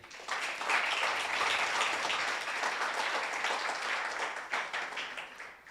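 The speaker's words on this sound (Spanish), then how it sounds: "Dale un fuerte aplauso al Rey." A church congregation applauds during a Spanish-language sermon, a dense sustained round of clapping that swells quickly and carries on evenly for several seconds before tapering slightly.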